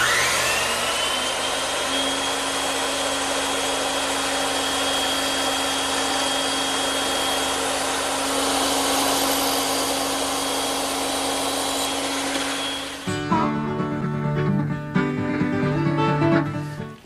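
Bandsaw trimming the tenons on 2x4 lumber for a garden bench, a loud steady whining roar for about thirteen seconds that drops into a rattling, uneven cut-down as the blade winds off, with no talking.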